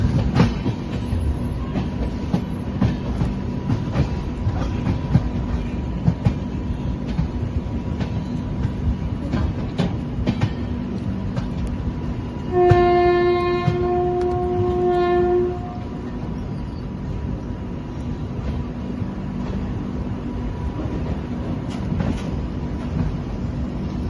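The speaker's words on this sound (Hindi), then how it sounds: "ये हमारा नागपुर में अराइवल है, प्लेटफॉर्म नंबर 2 पे" The Telangana Express pulls into Nagpur station on platform 2 in monsoon weather, a steady rolling rumble with clacking wheels, and the horn blows in two loud sustained blasts midway.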